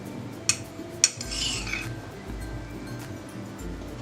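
Ginger powder stirred into a hot honey candy mixture in a pan: two sharp clinks of a metal spoon against the pot, then soft, faint scraping and swirling strokes with low background hum.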